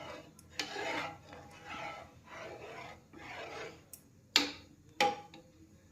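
Spoon scraping and rubbing around a pot of milk being heated, in slow repeated strokes with a couple of sharper knocks against the rim, close and fairly quiet.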